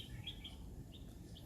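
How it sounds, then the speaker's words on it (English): Faint, brief bird chirps, three or four short high tweets, distant over a low rumbling background. "just listening to the birds and"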